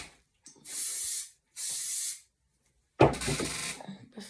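Dry shampoo sprays onto hair in two steady bursts of hissing aerosol, each roughly half a second long, followed by close rubbing and rustling as it is worked into the hair.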